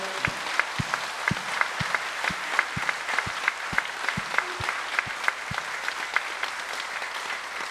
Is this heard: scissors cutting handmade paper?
no